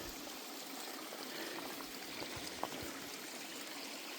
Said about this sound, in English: Just long enough to filter some water, refill my bottle, swig some down.